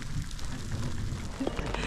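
Steady rain falls outdoors in Sant Julià de Lòria, Andorra, before a cycling event, making a constant hiss and patter with no clear pauses and faint background noise.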